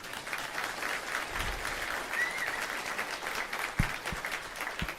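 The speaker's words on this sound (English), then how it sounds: "I just wanted to give him another round of applause" A crowd applauding steadily, a dense wash of clapping that holds for several seconds with a few sharper claps near the end.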